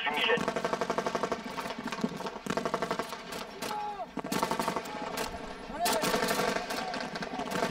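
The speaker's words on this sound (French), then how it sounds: "Je demande déclenchement des tirs d'appui et tirs fumigènes." Military supporting fire during an infantry assault, rapid machine-gun bursts rattling in repeated volleys at close range, with a voice speaking over the shooting.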